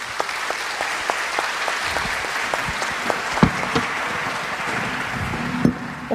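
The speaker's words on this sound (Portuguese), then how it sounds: "Uma salva de palmas para eles ali, né?" Audience at a spiritualist forum panel clapping for presenters, lively crowd applause with distinct individual claps and a few sharper knocks, steady and close, no one speaking over it.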